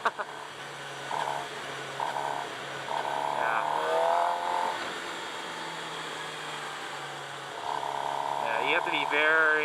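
A 2017 Suzuki GSX-R 750 sport bike engine drones and rises in pitch with the throttle while riding, its tone climbing and falling in steady surges beneath wind noise.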